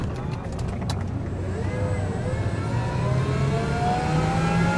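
An all-electric Ford F-150 pickup driving fast, giving a steady loud rolling drone with rising whine tones as it speeds up, with no combustion engine noise.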